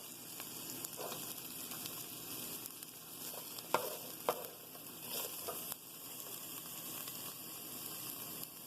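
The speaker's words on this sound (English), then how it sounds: "And you just want to stir it around a little bit." Chili in a pot on the stove gives off a steady low sizzle, with a few scraping knocks from stirring midway and no talk.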